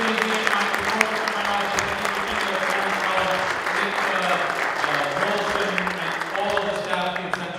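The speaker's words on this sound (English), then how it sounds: "Let's give them all really a big round of applause." A roomful of audience members applauds at a Greek Independence Day event at New York City Hall, dense steady clapping with voices talking over it throughout.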